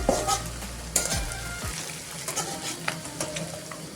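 Onion, garlic and egg frying in a pan for anda masoor dal, heard up close as a crackling sizzle with a few sharp spatula scrapes and taps early on, then steadier frying without talk.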